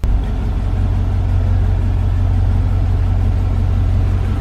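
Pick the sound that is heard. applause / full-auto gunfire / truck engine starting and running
truck engine starting and running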